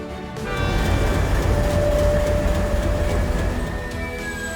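A freight train runs on a railway line beside a grain silo, giving a loud, steady rumble and rolling clatter of wagons with faint metallic squeal tones, continuous throughout and heard up close without speech.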